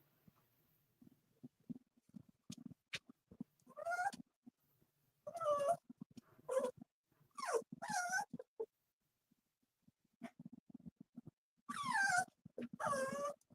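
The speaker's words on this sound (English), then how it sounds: "I hear that little doggy in the background." A puppy whimpers and whines in the background, with rising high-pitched cries coming in short bursts between quiet stretches and faint scuffling, fairly soft overall.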